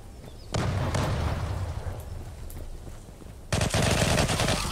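Automatic gunfire in the shooter Zula crackles in sustained bursts, close and loud, with a brief lull before a second burst.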